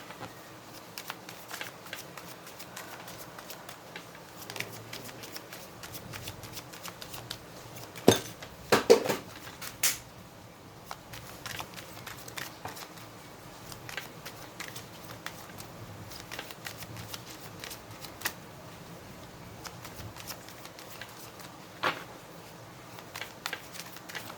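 Tarot cards are shuffled steadily, giving soft continuous riffling and pattering, with a few louder flicks near the middle and no talk.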